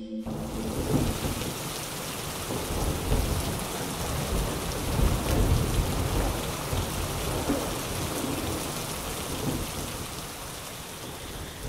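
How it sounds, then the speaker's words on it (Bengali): Heavy evening rain pouring down in a forest at night, a dense continuous roar of downpour with low rumbling thunder rolling underneath, no voices. "সন্ধ্যের পর নামল তুমুল বৃষ্টি।"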